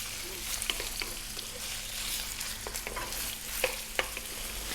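Onion frying in a pan just above medium heat, a soft continuous sizzle with irregular stirring scrapes and a couple of sharp utensil taps, fairly quiet and close.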